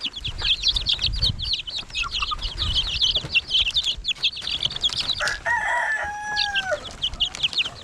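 A flock of native chickens clucks and chatters busily nearby, dense and overlapping, with a rooster's crow rising near the end.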